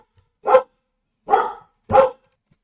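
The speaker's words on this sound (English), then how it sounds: "well, maybe he won't stop barking." A dog gives three sharp, loud barks close by, spaced irregularly with quiet gaps between them and no other sounds.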